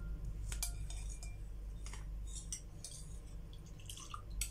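A utensil stirring flour into batter for shakoy, also called pilipit, giving soft wet scraping with light clinks against the bowl in an irregular rhythm, close and quiet, with no voices.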